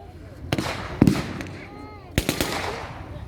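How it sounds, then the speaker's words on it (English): A WW2 battle reenactment at Quex Park in 2021 sets off a few sharp mortar and gun blasts, some in quick rattling clusters, at moderate distance, with voices faintly underneath. "Germans are still laying down mortar fire."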